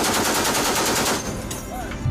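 Rapid bursts of fire from a ship's 50 caliber machine guns and 25 mm cannon during a Caribbean maritime exercise, loud and dense at first, then fading into echoing reports.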